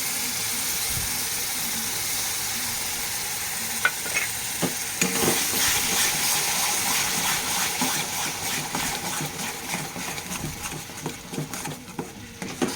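Tomato paste is stirred into frying onion, garlic and chili paste for chana masala, a steady close sizzle with scraping stirring strokes and no speech.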